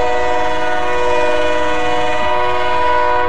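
The new Arte tram of Santos, Brazil, an added car in the city's living tram museum, passes close by with a loud, sustained tonal whine or horn-like drone over steady rolling noise.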